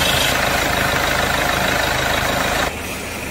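A 2017 Kia Sportage diesel engine, just after DPF cleaning, revs hard with the accelerator floored near 4,900 rpm, a loud steady roar that drops off sharply near the end.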